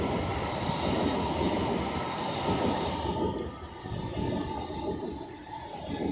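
Train 805.004 rolls into Rugby station on the West Coast Main Line on a Liverpool to London Euston service, a steady broad rumble of wheels and motors with faint squeal, loud and continuous, easing slightly toward the end.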